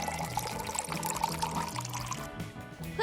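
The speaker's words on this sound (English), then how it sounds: "Pour coffee into a Ziploc bag." Coffee is poured into a Ziploc bag, a steady liquid stream splashing and gurgling continuously for a few seconds, close and clear, with a soft rustle near the end.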